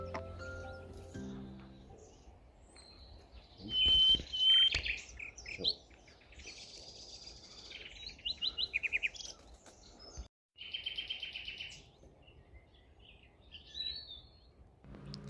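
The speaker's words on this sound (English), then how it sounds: "Didn't take long to hear a nightingale." Common nightingale singing outdoors in Kent, bursts of rich whistles, trills and rapid repeated notes coming in phrases separated by pauses, clear and fairly close over a quiet background.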